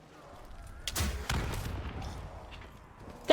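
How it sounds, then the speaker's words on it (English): Explosions in Call of Duty Black Ops 3 Zombies, a pair of sharp booming blasts close together followed by a rumbling tail, loud against a quieter game background. "That explosion radius is ridiculous."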